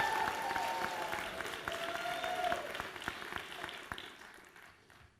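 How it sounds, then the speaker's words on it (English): Audience applause at a West Virginia announcement of a teachers' pay deal, steady clapping that slowly thins out over about five seconds with no talk over it. "Give them a great big round of applause."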